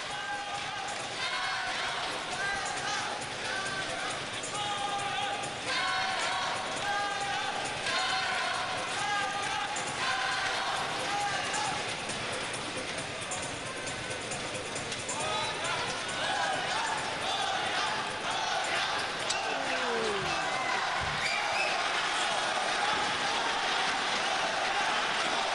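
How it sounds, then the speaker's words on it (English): Crowd at the 2009 badminton World Championships men's doubles final roars and cheers continuously in a large arena, a broad sustained din with a commentator talking over it. "Listen to this crowd."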